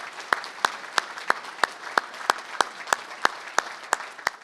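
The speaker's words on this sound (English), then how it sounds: "How about a round of applause?" Applause for a veteran at an annual veterans' breakfast, heard as sharp, evenly spaced claps at a steady rhythm of about three per second, with no talking.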